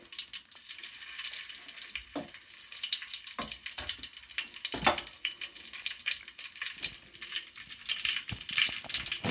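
Whole spices sizzling in hot ghee at the start of bagara rice, a soft crackling fry with scattered pops and faint clinks, fairly quiet, no talking.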